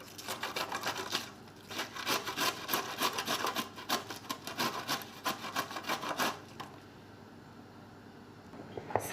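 Cabbage is rubbed against a hand grater in quick, rhythmic rasping strokes, close and fairly quiet, which stop near the end and leave a brief lull with a faint clatter.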